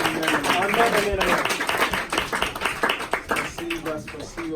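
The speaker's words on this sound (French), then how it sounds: "Acclamons pour le Seigneur." Congregation in a church service claps rhythmically and cheers in acclamation, with many voices calling out over the steady clapping at close range.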